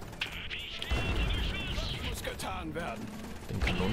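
A cannon turret fires in the Iron Harvest strategy game, with bursts of gunfire and booming shots layered over battle noise and machinery for a few seconds.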